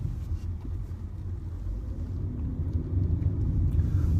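A car is driving, heard from inside as a steady low road rumble and engine drone that grows slightly louder toward the end, with no talk.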